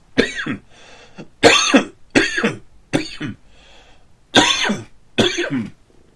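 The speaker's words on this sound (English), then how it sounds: "I've had a case of the coughs" A run of harsh, hacking coughs in uneven bursts, close to the listener, separated by short pauses of quieter breathing.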